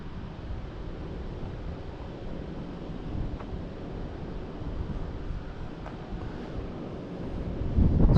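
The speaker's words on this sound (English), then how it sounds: "it's getting kind of windy too a little bit." Steady wind at a valley overlook buffets the microphone in a low, rumbling roar, growing stronger toward the end; no talking.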